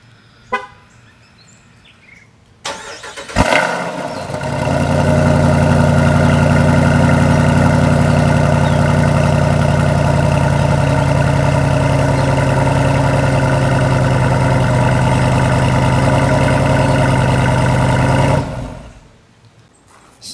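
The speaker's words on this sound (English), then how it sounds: "So that exhaust on this Jeep sounds awesome." A Jeep Wrangler 392 V8 fires up with a short blip and then settles into a steady, deep, loud idle rumble heard close for about fifteen seconds before cutting off.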